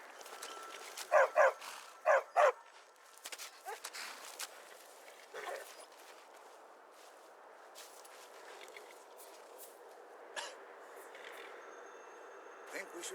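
A few sharp dog barks in quick succession in the video game Skyrim, followed by scattered footsteps and light thumps, fairly faint in a quiet space.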